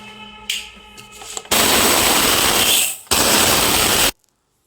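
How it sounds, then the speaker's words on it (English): Basmati rice grinds coarsely in an electric kitchen grinder, two loud, harsh whirring bursts of about a second and a half each, close by, with a brief pause between and no talk. "First I am going to grind Basmati"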